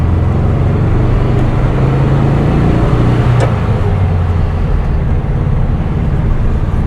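A 1975 fuel-injected VW Beetle drives along with a constant loud low engine rumble and road noise heard from inside the car, steady throughout with no talk.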